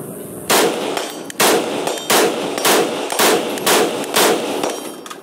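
A CZ Bren 2 MS rifle with a 14-inch barrel in 5.56mm fires six loud, sharp shots spaced roughly evenly about a second apart, each crack followed by a short ringing decay, with no talking.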